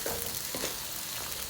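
Rawon spice paste with kaffir lime leaves and bay leaves fries in oil, giving a faint continuous sizzle with soft scraping strokes as it is stirred, no voices.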